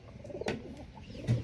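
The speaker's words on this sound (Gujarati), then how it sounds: "કબૂતર ખાવા આવે પણ બે હે થોડું થોડું" Pigeons coming to feed give soft, low cooing calls close by, short throaty notes over faint background noise, with a brief bump partway through.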